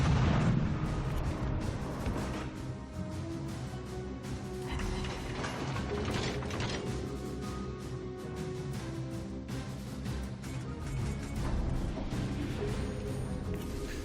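Destroyer guns fire repeatedly in World of Warships Legends, a loud, dense barrage of booming shots and rumbling impacts over continuous game sound, with no pause across the stretch.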